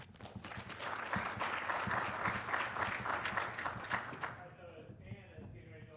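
Dense audience applause at the 2012 SSAC sports analytics conference, greeting two presenters: a crowd clapping steadily for about four seconds before it thins out and fades, followed by softer room sounds.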